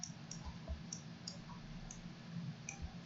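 A computer mouse is clicked repeatedly, about ten quiet, crisp clicks spread irregularly over a few seconds, close up against a low, steady background hum.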